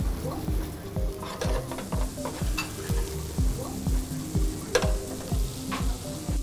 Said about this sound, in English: Now let us see him finish up the octopus spring roll. Get that caramelized.